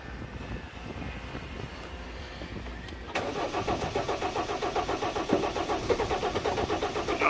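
A 1991 Ford Explorer turbo diesel cranks from cold: a low background hum, then the engine catches about three seconds in and settles into a loud, steady, rhythmically knocking diesel idle close by.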